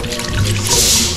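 Water running in a renovated bathroom, a loud close rushing flow with a brief low gurgle, continuous for the whole short stretch.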